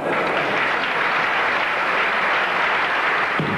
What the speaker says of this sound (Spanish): El público aplaude porque lo que intentó era muy complicado y muy valiente